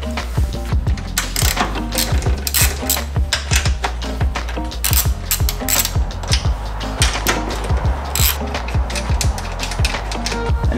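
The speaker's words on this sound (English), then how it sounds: "The first step is going to be undo these 14 mils." Ratchet undoing 14 mm nuts on the front strut bar of a 2022 Subaru WRX VB, with rapid clicking bursts and metallic clinks up close that repeat in uneven runs throughout.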